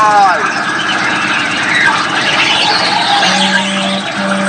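A Chamberlain 40KA tractor, designed and built in Australia, hauls a sled at a tractor pull, its engine roaring steadily at a distance under loud announcer commentary.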